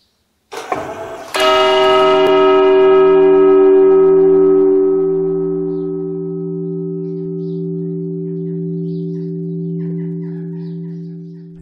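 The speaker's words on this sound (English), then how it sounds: "Now that I've recorded the bell sound" A metal bell is struck with a hammer twice in quick succession, then rings out with a long, clear, sustained tone that slowly fades.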